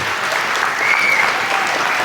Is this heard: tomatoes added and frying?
no